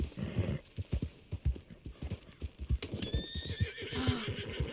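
A horse in Red Dead Redemption 2 whinnies over a steady rhythm of clip-clopping hooves, the close, fairly loud neigh rising near the end as the hoofbeats continue.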